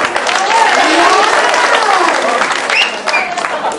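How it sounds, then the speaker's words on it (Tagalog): A class applauds together, a loud continuous wash of clapping with excited children's voices and cheers mixed in throughout. "nakasin po natin yung palakpak"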